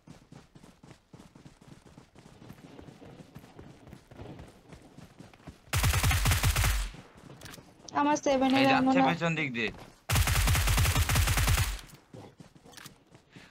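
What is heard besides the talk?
gunfire in video game PUBG Mobile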